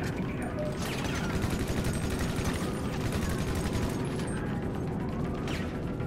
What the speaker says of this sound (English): Lamar, these people trying to spray me.